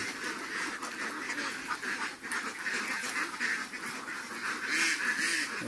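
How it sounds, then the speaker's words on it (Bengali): Domestic ducks quacking on a rain-filled village pond, a steady chorus of overlapping calls continuing throughout at moderate distance, with no one speaking. "আমার এই হাঁসটা পুকুরে আটকানো।"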